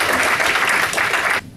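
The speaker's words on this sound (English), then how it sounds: "So y'all give them a round of applause." Audience applause at a motivational talk, a brief burst of dense clapping from a crowd that stops abruptly.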